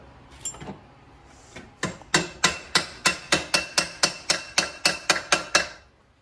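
Sharp metallic hammer blows strike a stuck part during front-end disassembly of a Baja build, a few scattered hits followed by a steady run of about a dozen evenly spaced strikes, close up.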